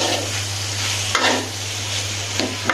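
Bean curry is stirred in a pot over a steady sizzling hiss, with a couple of brief scraping strokes of the spoon against the pot, close and fairly loud.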